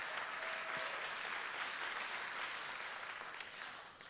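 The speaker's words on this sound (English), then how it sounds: "I know that you can applaud for them" At an awards ceremony, a seated audience claps steadily in a full, moderately distant wash of applause, with one sharp knock near the end as it begins to taper.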